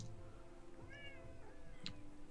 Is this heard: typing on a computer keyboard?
no